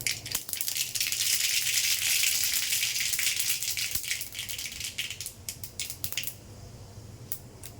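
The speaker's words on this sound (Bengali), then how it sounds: "এখন সরিষা দিয়ে দিলাম" Mustard seeds go into hot oil with fried dried red chillies while cooking a vegetarian water-lily stem dish, and a dense crackling sizzle rises loud right away, then thins into scattered sharp pops and spits.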